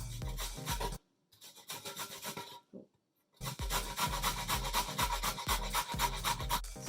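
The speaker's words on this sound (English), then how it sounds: "So I'm grating carrot." Carrot scraped against a kitchen grater in quick rhythmic rasping strokes, close and loud, with a couple of short pauses between bursts.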